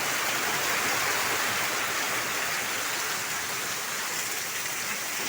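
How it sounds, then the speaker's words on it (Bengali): Heavy, steady downpour on a tin roof, a dense hiss of drops drumming on the metal, continuous and loud with no other sounds. "দুই বছরে এমন মুসুলধারে বৃষ্টি হয়নি"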